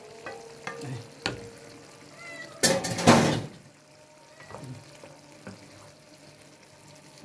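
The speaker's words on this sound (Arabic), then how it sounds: "هنحط بقى احط الكبده تتحدق معايا" Chicken liver dropped into a hot pan with onions, bursting into a loud sizzle that settles into quieter frying, with a few scattered clinks and stirring sounds before and after.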